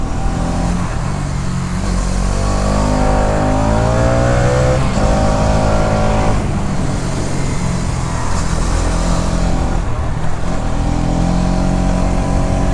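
A Hero Karizma XMR 210 motorcycle is ridden, its engine droning loud and steady with rising and falling revs as gears shift, all under heavy wind noise.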